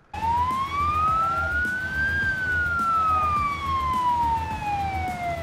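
Ambulance siren in BeamNG.drive, a single long wail rising then slowly falling in pitch, loud and steady over a low engine rumble.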